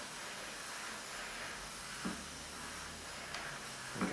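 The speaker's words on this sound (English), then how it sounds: "a couple of passes with the steam iron and direct pressure" A steady, soft hiss of escaping steam from a steam iron pressed on an old slouch hat, with faint bursts and puffs at intervals, close by and without talking.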